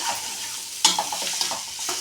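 Peanut powder being stirred into a carrot stir-fry in a pan, with a steady close sizzle and a sharp scrape of the spoon followed by several softer stirring scrapes.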